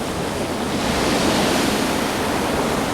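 Sea waves wash onto a shore by a distant northern sea, a steady broad rushing roar that holds at an even, fairly loud level throughout.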